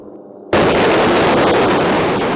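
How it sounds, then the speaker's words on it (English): A thunderous explosion erupts overnight during the Gaza conflict, a sudden loud blast that cuts in after a quiet hum and then roars on as a sustained, broadband rumble. "Overnight, a thunderous explosion lights up the sky."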